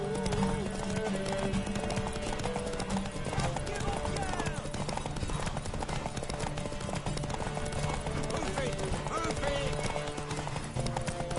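Rhythmic hoofbeats of a galloping horse run steadily throughout, mixed with game music and occasional voices.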